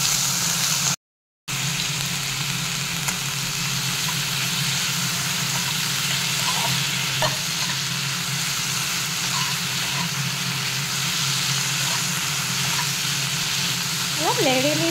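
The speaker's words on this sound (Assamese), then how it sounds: "কেৰাহীটোতে মই এইখিনি দি দিম অকণমান তেল দি লৈছোঁ ইয়াতে তেল দি এইখিনি মই এতিয়া ধুনীয়াকৈ অলপ সময় আৰু লৰাই ভাজিম" Vegetables fry in a little oil in a wok, giving a steady, close sizzle that runs throughout with a low hum beneath it and a brief dropout near the start.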